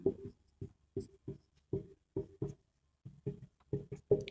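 Marker or chalk strokes on a board during a Hindi maths lesson on finding the units digit, a run of short scratchy bursts in uneven rhythm, close and fairly quiet, with no talking.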